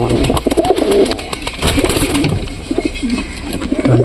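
Pigeons in a pigeon loft give repeated soft, throaty coos. The calls come close and overlap in a steady, rolling rhythm, with no voices.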